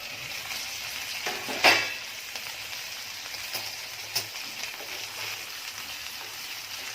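Steamed eggplants frying in a pan as they are turned over, giving a steady hiss of sizzling with a few sharper clatters and pops from stirring, with no talk over it.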